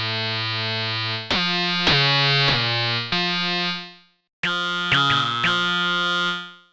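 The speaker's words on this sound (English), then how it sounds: "this synthesizer offers you a lot of possibilities to make different sounds" A free software synthesizer plays a sustained, buzzy harmonic tone with distortion and chorus-like effects, gliding and stepping through several pitch changes, briefly cutting out, then returning brighter with warbling sweeps.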